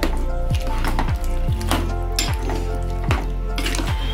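Dal with chopped tomato, coriander and raw mango pieces being stirred in a pot, giving a steady run of rhythmic scraping sweeps about every half second over a constant low hum.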